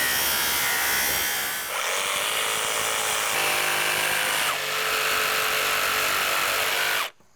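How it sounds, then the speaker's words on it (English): Jigsaw cutting through wooden deck stair stringers, a loud steady buzzing rasp with slight shifts in pitch as the blade works, near and continuous before stopping abruptly at the end. "I'll use a jigsaw to finish this cut."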